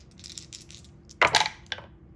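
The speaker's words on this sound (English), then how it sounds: "All right, so then your dice roll." Dice rattle and clatter onto a table during a World War II board game, a sharp burst of tumbling clicks after soft handling noises.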